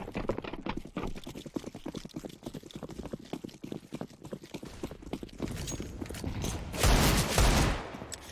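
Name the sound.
Mac-10 gunfire in the video game Counter-Strike: Global Offensive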